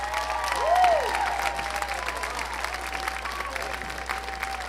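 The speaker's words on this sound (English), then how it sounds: "Applause, ladies and gentlemen, Mr. William Reynolds." Applause and scattered cheering from a live show audience as a singer is introduced, swelling briefly near the start then holding as a steady wash of clapping, with a tonal whoop or whistle rising over it early on.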